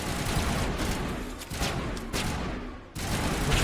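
Rapid bursts of gunfire from a sniper rifle in the Mass Effect Legendary Edition video game, several loud close shots in quick clusters with brief gaps between them.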